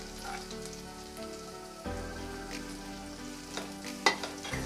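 Shallots and green chillies frying with garlic in a pan for drumstick flower soup, a soft continuous sizzle with occasional utensil scrapes and a louder clink near the end, no talking.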